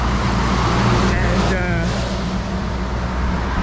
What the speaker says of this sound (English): Watch the traffic coming by there